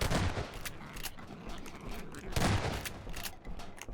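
Shotgun blasts ring out in Half-Life 2's Ravenholm, a couple of heavy booming shots with noisy echoing tails over a dense, rumbling game soundscape.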